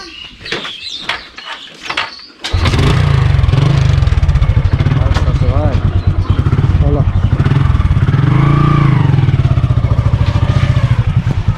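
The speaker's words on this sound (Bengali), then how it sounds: "আজকে আবার সে বাইক রাইডিং হবে।" A motorcycle is started after some handling clatter and then idles and runs loudly and close, with a steady throbbing engine note that rises and falls as it revs.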